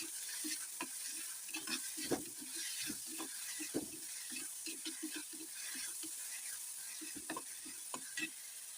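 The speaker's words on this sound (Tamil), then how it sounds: "கொஞ்சோண்டு பெருங்காயத்தூள் போட்டு இதை நல்லா வெங்காயத்து கூடவே வதக்கிடலாம்." Onions with a pinch of asafoetida sautéing in a pan for a roasted brinjal kuzhambu, a steady soft sizzle under repeated scraping and stirring strokes of a spoon against the pan, close and fairly quiet.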